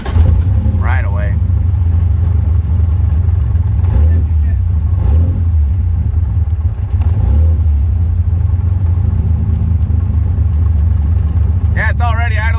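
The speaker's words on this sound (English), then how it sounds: "Yeah, it's already idling smooth though." A Toyota Supra engine idles steadily with a constant low rumble throughout, running smoothly after a repair, while people talk nearby over it.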